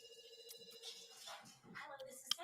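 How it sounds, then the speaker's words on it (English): A telephone rings in a radio advert for auto insurance, a quick pulsing electronic ring lasting under a second before a person starts talking over faint background sound. "we pick up the phone because it's ringing"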